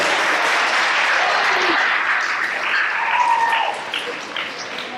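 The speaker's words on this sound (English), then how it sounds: "Students should cheer because your parents did a great job." Students cheer and applaud at an eighth grade awards program, a broad roar of clapping and crowd noise that fills the room and then gradually thins toward the end.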